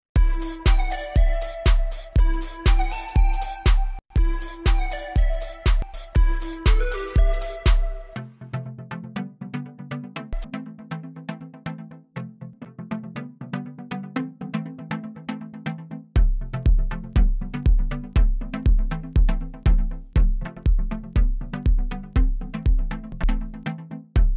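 A dense, punchy electronic music track through the Acustica Audio Frost clipper plugin, with a steady kick-driven beat, loud and heavily compressed throughout, shifting sections with bright synth chords and a bass line.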